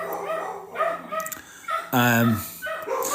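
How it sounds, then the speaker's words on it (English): Dogs barking on bin day as bins are moved outside, heard indoors during a live stream: a few short barks and yips at moderate distance, the strongest burst near the middle, amid quiet room noise. "it's bin day, so the dogs are barking every time someone moves a bin."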